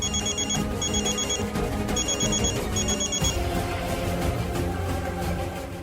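A telephone rings with repeated electronic ring bursts during the first few seconds of a Hindi TV drama scene, playing over steady background music, with no talking.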